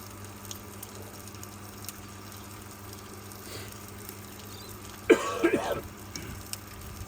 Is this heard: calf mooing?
no